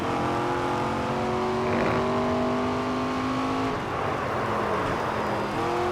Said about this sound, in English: I also like the way the tires sound when you hit the rumble strips.